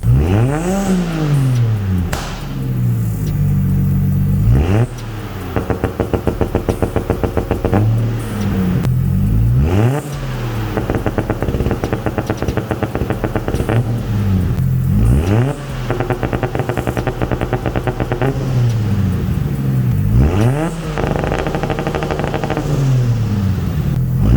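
A Nissan RB engine car with Haltech ECU warming up and revving hard, repeated loud rising revs falling back to a rough idle, with rapid staccato two-step limiter crackle between pulls, close and alone.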